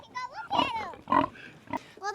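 Farm pigs grunt and squeal in short bursts, close and fairly loud, several calls in quick succession.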